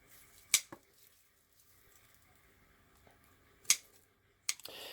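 Sharp scissors or pruning shears snip leaves off rose stem cuttings, giving three crisp isolated clicks spaced over a few seconds in an otherwise quiet room, close and fairly faint.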